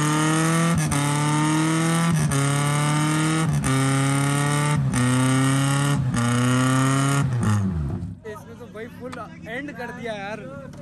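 A car engine pulls hard and loud in repeated rising surges, each climb broken by a brief step, before the roar fades into quieter mixed sounds.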